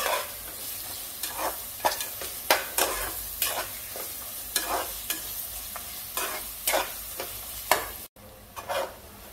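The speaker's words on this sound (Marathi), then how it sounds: "आता हे वाटण पण तेलामध्ये शिजवून घेऊया।" Ginger, garlic, chilli and coriander paste frying in oil for Aagri-style daal mundi: a low steady sizzle broken by a rhythmic series of sharp stirring scrapes, close up, with a brief drop near the end.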